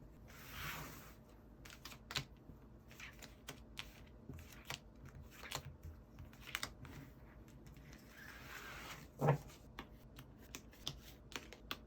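Tarot cards shuffled and drawn by hand during a reading: soft, rapid papery riffles and flicks, close and quiet, with a sharper slap of a card near the end, no talking.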